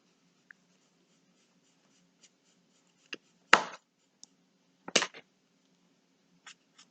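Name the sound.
colouring a mandala with pencils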